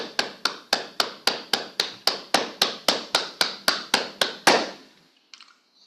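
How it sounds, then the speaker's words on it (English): Sharp hand claps at a leadership speaking club meeting, about sixteen evenly spaced beats in a steady unison rhythm that stop abruptly, followed by a faint brief rustle. "Let's give her a big clap, please."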